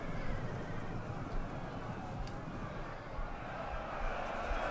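Cavalry horses charging in a Rome: Total War 2 battle between Seleucid and Galatian armies: a steady, dense rumble of massed hooves and clatter with a few faint whinnies, continuous throughout.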